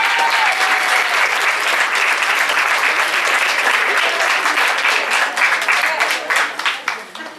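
A crowd at a regional adult-education meeting applauds loudly and steadily, the dense clapping thinning into scattered individual claps toward the end.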